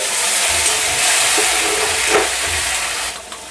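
Pointed gourds and spice paste fry in a pan with potatoes and cumin, a loud, steady sizzling hiss that swells briefly midway with soft stirring knocks, then eases near the end, no talking.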